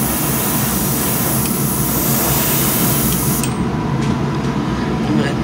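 A steady, loud airbrush hiss runs continuously while a shad fishing lure is painted. It stays close and constant, and its brightest top end drops away partway through.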